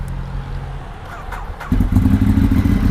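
A Kawasaki Z800 motorcycle engine cranks and catches, settling into a loud, steady idle close by, with no talk over it.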